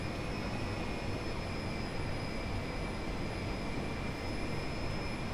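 Jet engines of a Lear 45 running at full power during a takeoff roll with flaps set to 8, a steady, loud broadband roar with a constant high whine and no breaks.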